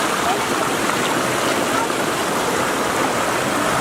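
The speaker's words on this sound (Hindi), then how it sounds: "पानी के कलकल की आवाज़ और प्राकृतिक दृश्य" Water of the Rani Dahra stream rushing and splashing over a waterfall in the Maikal hills near Bhoramdev, Chhattisgarh, a loud, steady broadband roar that carries on unbroken throughout.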